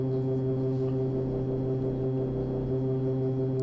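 A synth tone runs through a Roland SP-404 with its bit crush MFX effect, producing a loud, steady, buzzy drone with strong low harmonics that sustains throughout without talking.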